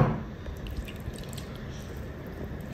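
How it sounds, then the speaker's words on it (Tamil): Water drips and trickles as soaked cooked rice is squeezed out by hand, a close, soft, steady wet patter with a louder squish at the start and no talking. "இந்த சாப்பாடை முதல்ல பிழிஞ்சிடணும்."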